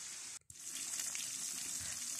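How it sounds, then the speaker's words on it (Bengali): Chicken pieces being lightly fried in a pan, a steady soft hiss of sizzling oil broken briefly by a short gap, faint and continuous with no talk. "এখন চিকেনগুলোকে হালকা ভেজে নেব"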